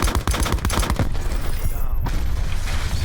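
Rapid gunfire in the Call of Duty video game comes as a burst of sharp, loud shots in fast succession during the first second. A dense, noisy rumble of the game's action carries on afterward.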